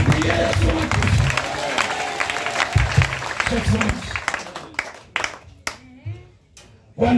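A church congregation claps for Jesus during a healing prayer service, steady clapping through the first four seconds, then it breaks up into a few scattered claps as a preacher's voice comes in over them.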